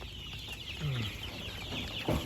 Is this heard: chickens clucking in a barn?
yes